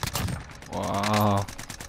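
A hacker's rapid automatic gunfire in a video game, a single short burst of about half a second, fairly loud, with little talk around it.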